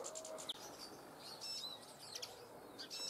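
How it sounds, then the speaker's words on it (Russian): Outdoors by a bird trap, greenfinches, siskins and sparrows give several short bright chirps and tweets, fairly faint over a soft background hiss of open air. "Вот летит зеленуха."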